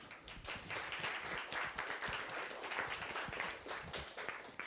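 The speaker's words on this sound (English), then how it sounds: "So big round of applause." Audience applause after a Python meetup talk, a steady, moderately loud spread of many hands clapping throughout, with scattered sharper individual claps and no voices standing out.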